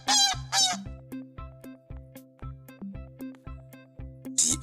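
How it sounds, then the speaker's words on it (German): Geese honk loudly at the start and again at the end. Between the honks, a steady rhythmic pattern of regular tonal pulses repeats, like a background jingle. "Die Gans."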